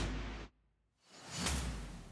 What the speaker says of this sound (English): Like whoosh hits.